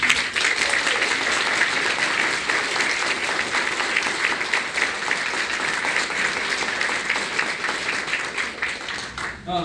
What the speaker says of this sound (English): maybe we can all give the candidates a big round of applause for joining us